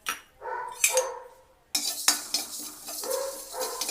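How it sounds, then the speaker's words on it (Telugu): Fenugreek seeds fry in a pan on the stove with a soft sizzle. Scraping stirs and clinks of a utensil against the pan come in short bursts, close and moderately loud, with a brief gap near the middle. "స్టవ్ మీద ఒక బాండిలి పెట్టుకొని మెంతులు వేయించుకోవాలి"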